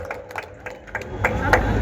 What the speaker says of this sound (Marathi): सर्वांनी एकदा जोरात टाळ्या वाजवून सर्वांनी अभिनंदन करायचं